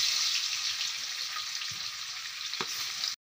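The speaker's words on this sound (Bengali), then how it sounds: "মাছেতে তেল দিয়ে দিলাম, মাছগুলো দিয়ে দিলাম কড়াইতে।" Fish fries in oil in a wok, a steady bright crackling sizzle with a few soft stirring knocks, close and continuous until it cuts off abruptly at the end.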